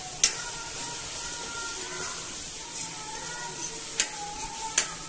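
Garlic frying in a pan for a Rajasthani vegetable dish gives a steady soft sizzle, with a few sharp clicks of a utensil on the pan, close and without talk.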